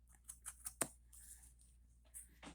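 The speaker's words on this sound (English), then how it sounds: "I look at it straight, and I cut straight" Several short snips of scissors cutting through jeans denim, close and quiet, a quick run of cuts followed by a pause and one more cut near the end; no talking.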